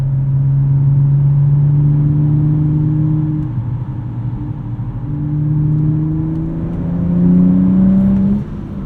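A modified 2016 BMW 435i coupe with a six-speed manual pulls hard through the gears, its engine note climbing steadily, dropping at a shift and rising again, loud and continuous from inside the cabin.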